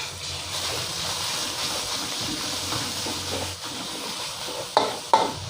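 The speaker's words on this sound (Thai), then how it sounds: "กระเทียมหอมใส่หมูสับครับ" Garlic and minced pork stir-fry in a hot pan for a Thai glass-noodle salad, giving a loud, continuous sizzle and hiss with stirring, and two sharp spatula scrapes near the end, without speech.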